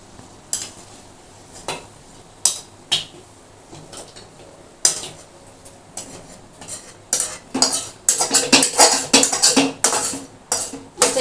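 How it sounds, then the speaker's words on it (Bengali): Pieces of mutton are added to a pressure cooker with a utensil, giving irregular metallic clanks and scrapes that grow denser and quicker toward the end, close up with no talking. "এই প্রেশার কুকারের মধ্যে আমি আগে মাংসগুলোকে দিয়ে দেবো।"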